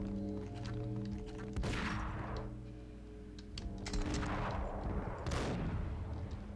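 Gunfire in the video game Max Payne, loud booming shots in two or three heavy bursts over a sustained rumbling game soundtrack.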